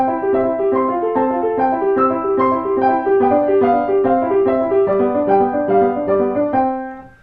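Piano plays a steady flowing passage of Burgmüller's "The Farewell" where the low left-hand accompaniment sounds as loud as the right-hand melody above, then fades at the end.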